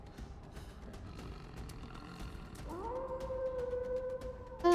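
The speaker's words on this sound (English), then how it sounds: "You don't want wolves howling." Wolves howl in the anime Solo Leveling, a sustained tonal howl rising in and holding steady over faint background sound, ending in an abrupt louder burst.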